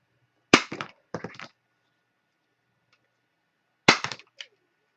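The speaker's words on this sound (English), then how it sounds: "also going to take my crocodile edge cutter, and I'm going to cut the corners" A crocodile edge cutter punches and rounds paper corners with sharp snapping clunks, arriving in three short close bursts separated by silence and followed by small rattles, with no voices.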